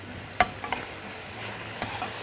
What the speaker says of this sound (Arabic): شوح اللحم عادي